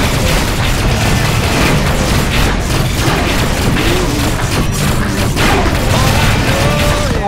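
Missiles explode over and over in the space game Rebel Galaxy, a constant loud barrage of booming blasts and mechanical rumble with whooshing streaks, dense and unbroken throughout.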